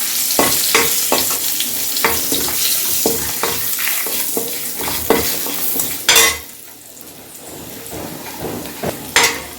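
Turmeric powder frying in oil over low heat while a spoon stirs it for nellikai rasam, a steady close sizzle broken by repeated metallic scrapes and clinks against the pan, no talk.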